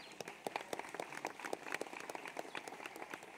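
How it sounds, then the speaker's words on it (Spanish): Scattered, fairly faint clapping from guests at a wedding ceremony in Guayaquil, just after the couple is declared husband and wife. The individual claps are distinct and irregular, like a modest gathering in a reverberant room. "Un fuerte aplauso."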